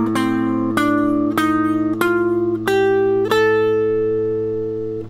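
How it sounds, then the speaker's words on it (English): Ascending Locrian mode scale played note by note on a sustained, organ-like instrument, six or so evenly spaced notes ringing over a steady low drone, loud and close without any voices. "the Locrian mode sounds like this."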